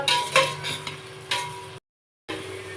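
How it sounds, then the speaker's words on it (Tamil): Onions, about 400 grams, being sautéed in a pot for mutton biryani, with soft sizzling under repeated scraping and stirring strokes of a spoon, close and moderately loud, broken by a brief silent gap before the stirring resumes. "400 கிராம் வெங்காயம் சேர்த்துருக்கேன். இது கோல்டன் ப்ரௌன் கலர் ஆற வரைக்கும் நல்லா வதக்கணும்"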